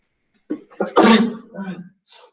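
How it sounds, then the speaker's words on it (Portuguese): A person sneezes during a classroom lesson: a short sharp intake, then one loud explosive burst, followed by a brief trailing breathy sound. "Ixi, estou espirrando."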